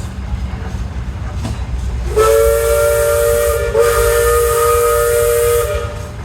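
A five-chime Crosby steam whistle blows a long, loud chord for about four seconds, steady and close, over hissing steam and machinery rumble at a tractor parade.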